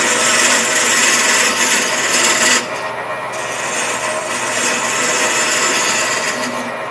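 A scraper cutting a tenon on a spinning wood lathe, a loud, steady, close rasping and scraping with a brief lighter stretch partway through.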